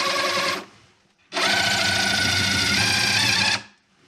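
A power drill boring a pilot hole through a camper wall, running in two bursts, a short one and then a longer steady whine about two seconds long, close and loud with no talking.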